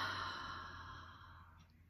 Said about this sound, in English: Another nice deep breath in.